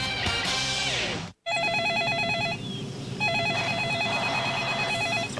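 A telephone rings in repeated warbling electronic bursts, pausing briefly between cycles over a busy background of music and room sound. The ring is heard clearly and fairly close within a television commercial.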